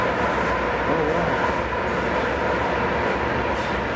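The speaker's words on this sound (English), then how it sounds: "There's a train." A train rolls past near a Civil War monument in Ringgold, a steady broad rumble and rail roar holding constant throughout, fairly loud and close, with no voices over it.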